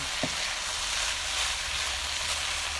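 Vegetables stir-fried in a pan, giving a steady, loud, close sizzle of frying with one brief utensil clink near the start.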